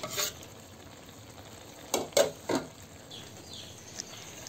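Moringa leaves and deboned fish cooking in coconut milk are stirred, with a soft ongoing simmer broken by a few distinct utensil scrapes and knocks against the pot; no voices.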